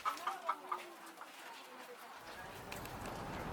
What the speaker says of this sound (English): let's have a look at the chickens